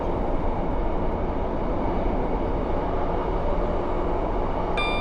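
Simulated Class 150 diesel train running with brakes applied, a steady broadband rail rumble and wheel noise throughout, with a faint tonal chime appearing at the very end.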